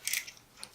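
A knob on a Sirui ballhead of a Sirui 3T-35K table top tripod is tightened, giving a brief close ratcheting click sequence followed by a faint second click.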